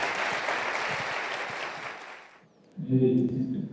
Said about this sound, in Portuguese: Uma salva de palmas para esse homem de Deus